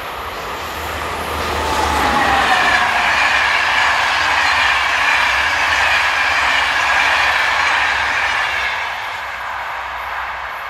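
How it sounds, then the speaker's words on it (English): SNCF class 22200 locomotive 22-340 hauls a Bordeaux to Marseille passenger train past, its steady rumbling roar swelling up, holding loud for several seconds with faint wheel clatter, then fading away; no voices. "Number 22-340 powers the 634 from Bordeaux to Marseille."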